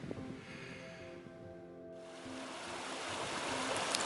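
Water from a mountain stream rushes steadily off a misty Black Mountains hillside in the Olchon Valley, a broad continuous hiss that swells louder partway through, with no voices.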